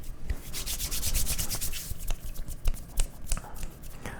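A microphone being rubbed right up close gives a dense, continuous scratchy rustle with sharper grainy bursts throughout, loud and alone with no talking.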